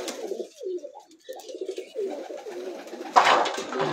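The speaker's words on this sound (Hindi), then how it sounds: "ये कुछ कबूतर छः सात अभी बैठे हैं" Several pigeons coo on a rooftop in Kala Bagh, their low rolling calls overlapping close by, with a brief rustle or flutter near the end.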